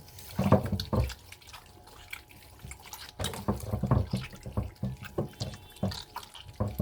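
Running tap water pours steadily over tuna fish liver being washed in a sink, with splashing, dripping and squelching as the pieces are handled, close and continuous throughout.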